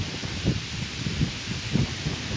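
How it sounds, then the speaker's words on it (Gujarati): Strong wind sweeps across a farm field in rainy weather, rustling crops in soft surging gusts that swell and fade several times against a steady airy hiss. "પવન તો એક નંબર આવે છે જોઈ લ્યો."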